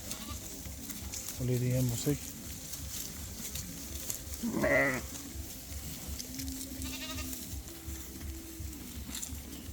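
Hisor sheep and rams bleating in a pen, two loud close bleats with a fainter drawn-out one later, while someone talks throughout.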